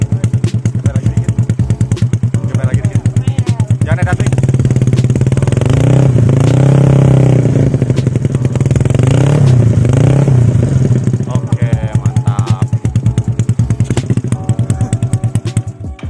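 A Yamaha Mio motorcycle with a carburetor and 155 cc bore-up engine revs hard and loud, climbing and falling in repeated throttle bursts over a steady idle, with light clatter throughout.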